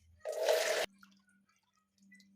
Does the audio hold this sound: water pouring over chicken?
yes